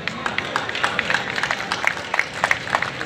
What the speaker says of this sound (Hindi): तालियां बहुत कम बजती